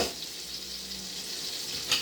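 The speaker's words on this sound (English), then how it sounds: "melted butter, and we're throwing them in there right now. We want to give them a nice sizzle" Steady sizzling and frying of chopped scallops hitting hot melted butter in a pan, with a brief sharper crackle near the end.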